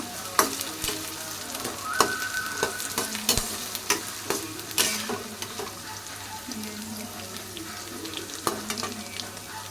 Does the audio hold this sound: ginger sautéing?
yes